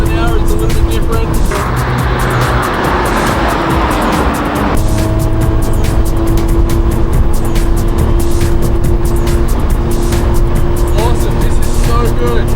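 A small race car built for track use screams past at over 150 km/h, its engine loud and close with rising and falling revs, gear changes and a brief tire squeal, under some talk.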